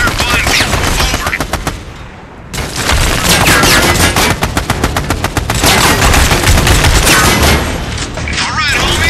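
Sustained automatic gunfire from a military shooter video game, Army of Two, during a suppressive-fire training exercise: loud, dense bursts of rapid shots and booms nearly continuous, with a brief lull before the barrage resumes.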